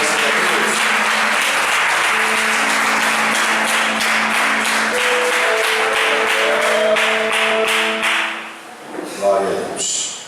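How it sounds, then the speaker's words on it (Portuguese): A church congregation claps for Jesus during a service, a sustained round of many hands clapping under sung or held voices, fading at the end as a single voice takes over. "Agora o Senhor umas palmas para Jesus."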